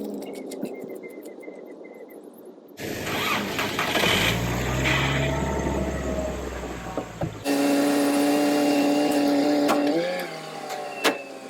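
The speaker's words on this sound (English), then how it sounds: "So I'm gonna have to jump start it with the" A Volkswagen MKIV car engine, 1999-2006 era, cranks and catches while being jump started, loud and close, then settles into a steady running idle with a later shift in pitch.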